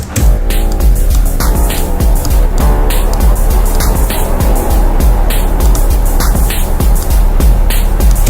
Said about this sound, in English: Let's give it a bit of reverb.